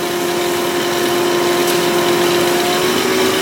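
A wood lathe spins a walnut bowl at higher speed, around 1,300 RPM, giving a steady, even motor hum with a thin constant whine and no voices over it.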